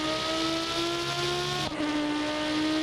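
A Hirochi supercar in a video game accelerates on a drag strip at very high speed, a steady high-pitched engine whine holding its tone, briefly dipping at a gear change, then continuing loud and close.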